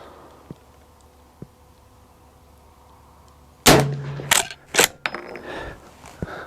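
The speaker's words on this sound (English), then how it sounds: "It's shooting high, so we'll shoot at the base." A 44-40 lever-action rifle fires a few sharp, loud reports in quick succession after a quiet stretch, each crack followed by a short ringing decay and some clatter, with no voices.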